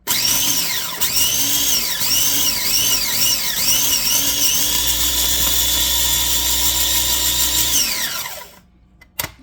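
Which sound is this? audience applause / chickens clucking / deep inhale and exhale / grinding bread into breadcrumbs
grinding bread into breadcrumbs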